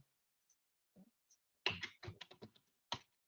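Faint typing on a computer keyboard: a few scattered clicks, then a quick run of keystrokes and one final tap, heard close and quiet with no talk.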